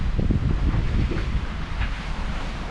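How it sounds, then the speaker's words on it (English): Wind and rough water on a Lagoon 450 sailing catamaran under headsail with motors running, a steady heavy roar buffeting the microphone, with low thuds of waves striking the hull near the start. "the banging and clashing and waves slamming the hull"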